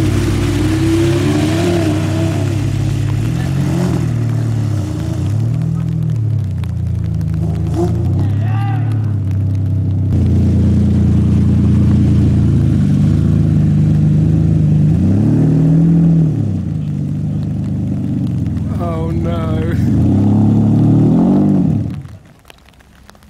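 A supercar stuck in mud revs its engine hard and repeatedly, the loud, close roar rising and falling in surges for about twenty seconds before cutting out abruptly, with voices talking over it.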